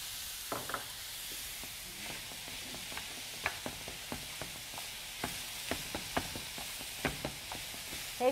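Finely diced onion, about a cup, sizzles steadily in a pan while preparing a rigatoni casserole, with a soft continuous hiss broken by frequent small pops and stirring taps throughout; no voices.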